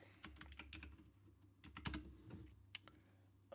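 Quick bursts of clicking on a computer keyboard while a music artist's name is entered into a search, uneven clusters of keystrokes close up and fairly faint, with no talking.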